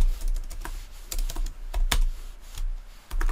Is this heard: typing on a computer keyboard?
yes